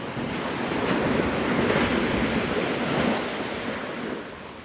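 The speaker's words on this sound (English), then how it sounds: "but the waves are super loud where I was." Ocean waves break on Navarre Beach, Florida, at a stormy sunrise, a loud continuous surf roar mixed with gusting wind noise, with no talking.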